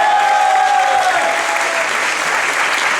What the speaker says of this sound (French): donc on va applaudir les Hypnose